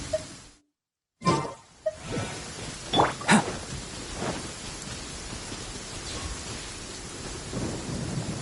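Rain pours steadily in Genshin Impact while thunder cracks and rumbles close by, several sharp rolls early on, then a continuous hiss of rainfall with no talking.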